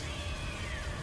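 Cats meowing in South Park: The Fractured but Whole video game, a brief sustained meow sitting over a steady bed of game background noise.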